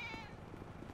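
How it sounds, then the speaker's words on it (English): A cat in a GTA video game gives a short, fading meow at the very start, fairly faint against a steady low background hum. "Hey, kitty."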